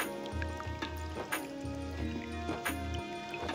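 Water splashes and trickles over a Taiwanese dragon-pattern stone as it is rinsed, a few irregular wet spatters over a low hum with brief background sounds.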